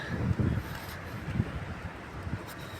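Wind blows during a light sandstorm in Dammam, Saudi Arabia, giving low, uneven gusts and rumbling buffets against the microphone, moderately loud with no one talking.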